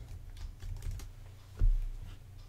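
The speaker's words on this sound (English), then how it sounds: "I'm just going to type the word keyboard." Typing on a computer keyboard, soft rapid key clicks with one firmer tap, faint and close with no voices.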